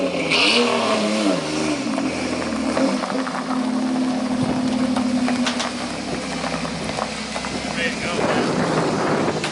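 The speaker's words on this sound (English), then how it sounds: "let's let him take it down the road and come back" A Ford Ranger 4x4 with a newly replaced clutch pulls away and drives down the road, its engine revving and rising through the gears, with people talking over the sound.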